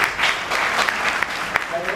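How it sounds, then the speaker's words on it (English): Brief, dense applause from an audience at a lecture on image processing in Hyderabad, many hands clapping together at close range with a steady texture, with voices faintly underneath. "Give him a big clap."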